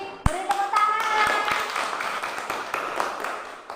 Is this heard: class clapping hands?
yes